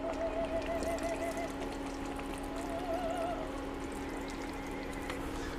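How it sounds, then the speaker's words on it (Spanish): Beef broth poured from a can into thick tomato pasta sauce, a steady liquid pour running for several seconds under a constant background hum, with no talking. "le voy a poner más o menos la mitad de una lata de caldo de carne."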